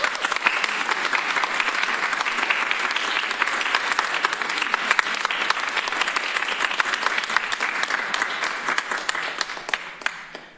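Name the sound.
audience applause at county legislature meeting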